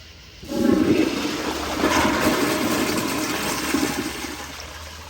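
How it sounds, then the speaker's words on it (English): A Kohler Kingston 1.6 gpf toilet flushing on a second flush of a toilet paper test, a close, loud rushing swirl of water that starts abruptly, holds steady for several seconds and slowly tapers as the bowl drains. "we're going to do a second flush and we'll see how it goes"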